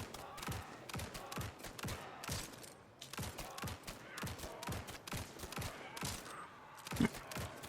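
Steady rapid shooting in the action survival game Grind Survivors, with regular punchy shot bursts and thumps repeating throughout, at moderate loudness with no talk.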